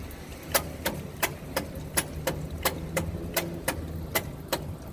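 A choked engine turns over and runs in a steady, rapid ticking rhythm of sharp clicks above a low mechanical rumble, close and moderately loud.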